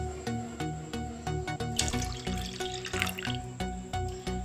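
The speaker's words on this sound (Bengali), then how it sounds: "এবার এর মধ্যে আমি যে হাফ কাপ জল নিয়েছি সেটা ঢেলে দেবো।" Half a cup of water pours into heating milk in a saucepan, a continuous splashing trickle with drips and a brief louder gush midway, close and alone.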